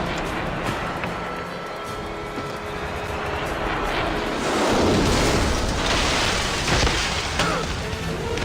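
A helicopter roars in a James Bond Nightfire gameplay scene, a loud, continuous engine and rotor wash that swells in the middle, with muffled booms mixed in.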